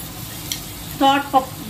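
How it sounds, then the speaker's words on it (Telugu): Washed lentils fry in oil with onion and green chillies in a pan, a low steady sizzle broken by two short scraping stirs near the end. "ఈ కడిగిన పప్పును కూడా ఇందులోనే వేసి ఫ్రై చేసుకోవాలి."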